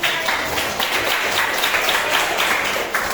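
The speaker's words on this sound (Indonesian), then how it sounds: "Beri tepuk tangan" A classroom group applauds another group of students after their presentation, a steady wash of clapping from many hands sustained throughout at moderate, somewhat distant volume.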